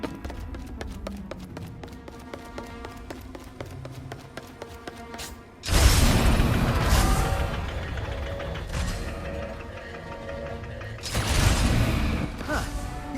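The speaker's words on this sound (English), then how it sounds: "This lock's controlled by a bolt crane." A bolt crane lock mechanism in the video game Ratchet and Clank Rift Apart: rapid mechanical ticking and creaking, then a loud heavy clank and rumbling machinery that swells again near the end, all without talk.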